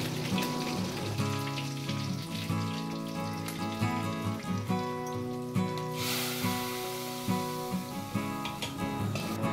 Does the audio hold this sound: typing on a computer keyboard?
no